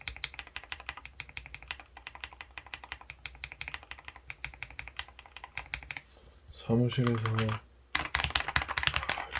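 Rapid, steady clacking of a DAREU A104 Pro retro beige keyboard with snow switches being typed on, close and crisp, with a brief spoken phrase cutting in near the end before typing resumes.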